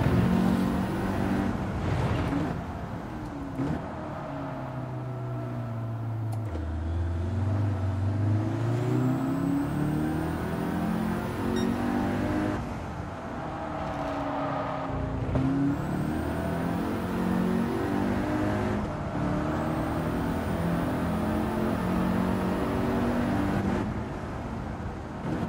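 A car lapping Tsukuba circuit on a wet track with normal tires, its engine revving up and down steadily through the lap, with tire and spray noise underneath and no talk.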